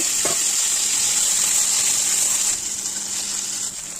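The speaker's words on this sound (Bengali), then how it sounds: "কড়াইতে তেল দিয়ে আলুগুলোকে ভালো করে ভেজে নেব" Potatoes frying in oil in a kadai give a close, steady sizzle that eases slightly near the end.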